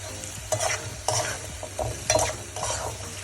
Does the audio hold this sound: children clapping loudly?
no